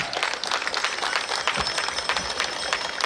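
Guests at a civil wedding ceremony in Jinotega applaud. Many hands clap at once in a dense, steady round that lasts the full three seconds without a break.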